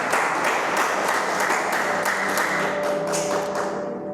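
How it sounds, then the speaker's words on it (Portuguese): A church congregation claps for the Lord, a loud, dense round of hand-clapping with some sharper individual claps, holding steady before easing off at the end. "Dê uma linda salva de palmas para o Senhor"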